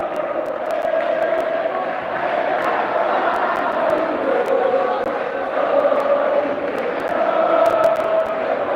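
Nueva Chicago supporters' band chants and cheers in the stands at a futsal match, a loud, steady crowd roar with sharp drum or clap hits scattered through it and a commentator talking over the top.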